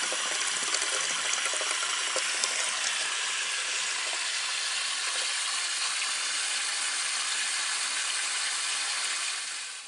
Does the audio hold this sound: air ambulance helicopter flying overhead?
no